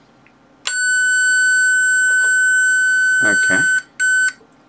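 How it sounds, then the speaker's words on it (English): An electronic buzzer on a Maxitronix 20-in-1 kit light alarm circuit sounds a steady high tone for about three seconds, stops, then gives a short second burst; a voice speaks briefly over it. "the buzzer works"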